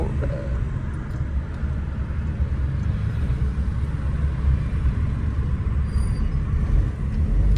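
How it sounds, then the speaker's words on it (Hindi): A 660cc Suzuki Alto idling, a steady low rumble holding even from start to finish, fairly close, with no talk. "अब गाड़ी आइडल पोजीशन में"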